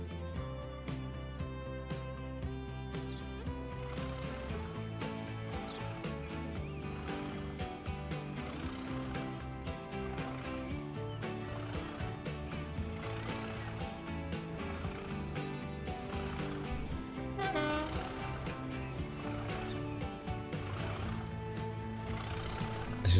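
A road vehicle engine in the Transport Fever 2 video game hums steadily for a long stretch alongside layered background music, fairly quiet and continuous throughout.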